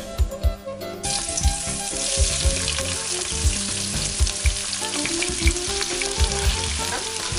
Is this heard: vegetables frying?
yes